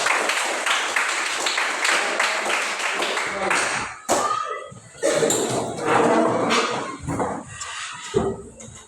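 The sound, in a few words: applause, class clapping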